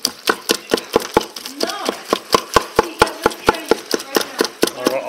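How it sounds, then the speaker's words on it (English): Steady, rapid knocking of a utensil chopping ground meat as it browns in an Instant Pot, about twenty close, even strikes over five seconds. "Just gonna keep chopping."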